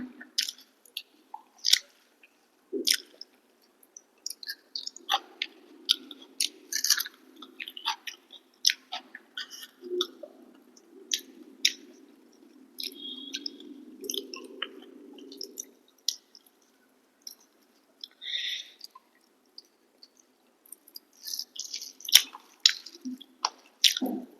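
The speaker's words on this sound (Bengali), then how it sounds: "তো চলো খাওয়া যাক।" Someone eats rice with taro stem curry cooked with shrimp, giving soft, close squishy chewing and mouth clicks in irregular bursts over a quiet room with a faint low hum, no talking.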